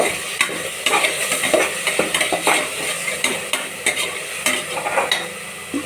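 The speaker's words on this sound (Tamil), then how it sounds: "மிளகாய்த்தூள் கொஞ்சம் போல் போட்டுக்கலாம் நல்லா வதக்கலாம்" Chili powder sautéing in hot oil in a pan for a mixed-pulse vegetable biryani, a steady sizzle with repeated scraping and clinking of a spoon against the metal pan, close and fairly loud, with no talk.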